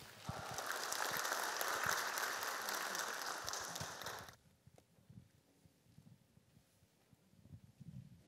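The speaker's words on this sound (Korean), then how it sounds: "큰 박수로 맞이해 주시면 감사하겠습니다." An audience at a medical school admissions briefing for students and parents in Korea claps to welcome a speaker, a dense burst of applause for about four seconds that stops abruptly, followed by quiet room noise and shuffling.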